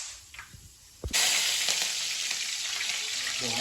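Whole spices, cardamom pods, cloves and a piece of cinnamon, drop into hot oil in a home kitchen and burst into a loud, steady sizzle after a quiet moment, the frying hiss continuing unbroken to the end.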